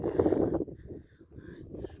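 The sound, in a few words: wind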